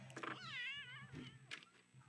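A video-game cat meows once, a drawn-out wavering cry near the start, followed by softer scattered sounds and faint background hum.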